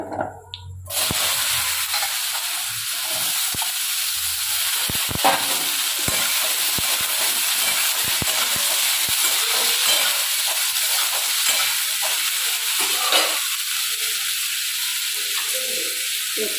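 Potatoes fry in a hot pan with a loud, constant sizzle and hiss, and occasional scrapes and taps as they are stirred. It begins with a brief quieter moment before the sizzle takes over.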